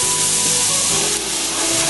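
Beef bouillon hits a pan heated to the smoking point, giving off a loud, steady, close hiss and sizzle that fills the whole short moment without pause.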